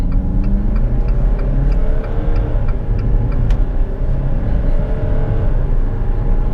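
Diesel engine of a Jeep Compass Longitude 4x4 with a ZF automatic in manual mode, revving steadily under acceleration inside the cabin, a loud continuous drone with rising harmonics and a brief dip around a gear change.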